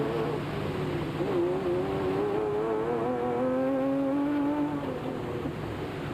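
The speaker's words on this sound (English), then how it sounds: "Foss and Griffith nipped past, but the Ford pair soon hauled them in again to retain 3rd place on the road" Ford Ranger race trucks competing in the 2003 Sugarbelt 400 endurance race, engines droning loud and continuous with rising and falling pitch as trucks jostle for position close by.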